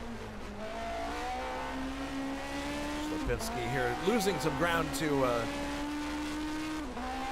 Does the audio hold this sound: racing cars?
yes